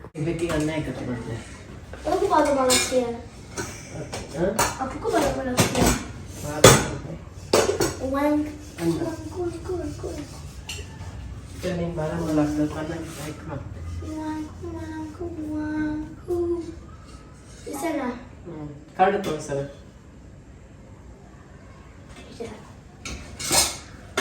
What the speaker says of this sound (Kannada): ಸಿಂಕಲ್ಲಿ ನೋಡಿ ಎಷ್ಟೊಂದು ಪಾತ್ರೆಗಳು ತುಂಬಿಕೊಂಡಿದೆ ಇವಾಗ ಮಕ್ಕಳಿಗೆ ತಿಂಡಿ ಕೊಟ್ಬಿಟ್ಟು ಅದನ್ನ ಈಗ ವಾಶ್ ಮಾಡಬೇಕು